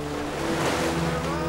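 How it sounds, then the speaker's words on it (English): Wind rising over open sea around a sailing warship on a misty night, a steady broad rush of wind and surf with low sloshing water beneath it, continuous and moderately loud. "The breeze is freshening. We won't have refuge in the mist much longer."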